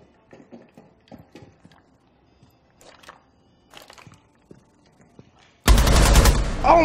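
Gunfire in the tactical shooter game Rainbow Six Siege: soft scattered clicks and footstep-like taps, then a sudden loud, dense burst of shots near the end that stays intense until the cutoff.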